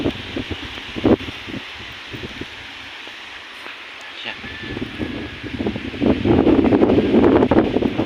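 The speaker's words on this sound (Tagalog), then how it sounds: "kaya malakas ang hangin dito." Strong wind blows across a farm field of crops where eggplant grows under an old cucumber trellis, a steady rushing roar with rustling that swells louder near the end, while faint talk comes and goes underneath.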